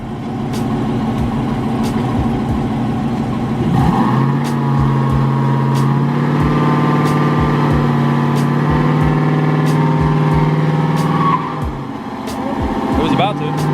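A car engine idles, then revs up hard and holds a high, steady drone during a burnout attempt before dropping back, with sharp clicks and voices talking over it.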